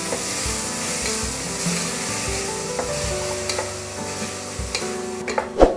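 A spoon stirs chopped tomato with salt frying in a pan, a busy sizzle running throughout with scraping strokes and a few sharper knocks toward the end.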